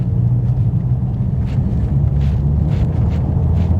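A Mercedes-AMG CLS53 pulls along pavement, heard from inside the cabin as a loud, steady low engine and road rumble with faint tire noise and no change in pace.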